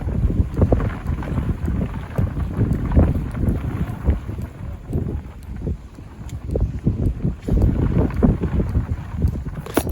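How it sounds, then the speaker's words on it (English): Strong wind buffets the microphone outdoors by the water, with a constant low, gusting roar rising and falling in waves. "Sorry, super windy."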